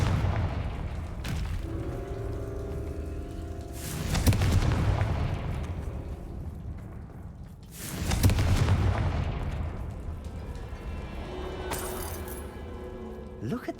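Blasting spell explosions in the video game Hogwarts Legacy, two heavy booming blasts several seconds apart, each with a rumbling tail, over ambient game sound and light chimes.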